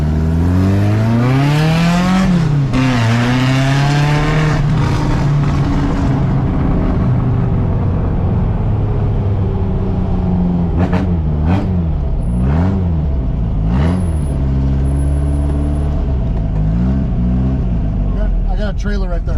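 A vintage vehicle engine at an outdoor air show revs and idles loudly and continuously, its pitch rising and falling with throttle changes.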